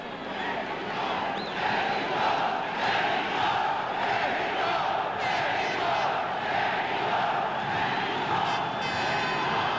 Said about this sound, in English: The crowd chanting Mexico for Jose Napoles